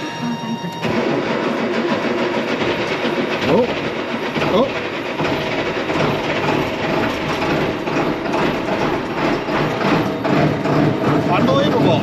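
A farm tractor engine cranks and catches on a cold spring start, then runs loud and steady with a rough mechanical clatter throughout, while a voice briefly exclaims over it.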